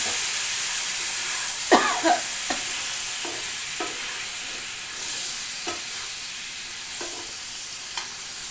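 Spices sautéing in a pan with a splash of water for a winter bean-and-potato dish, a steady hissing sizzle under a high constant whine, with periodic scraping stirs of a spatula, no talking.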